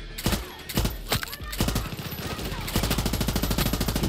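Rapid gunfire from a heavy mounted gun in the shooter game Far Cry 6: loud bursts, then a sustained stream of shots growing denser and steadier, close and dominant.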